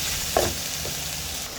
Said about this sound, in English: So I'll saute this for probably about another minute.